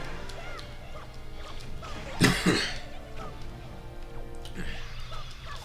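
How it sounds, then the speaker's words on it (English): A person coughs in a short burst of two or three harsh coughs near the middle, close and fairly loud against a steady background hum with faint murmuring. "I definitely don't cough this much"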